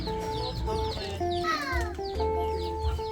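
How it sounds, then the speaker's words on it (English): Chickens cluck and squawk inside a house in a poor settlement in Phnom Penh, Cambodia, with several overlapping calls and a brief rising squawk, close and fairly loud over low background noise. "you've got chickens, you know, living in the house"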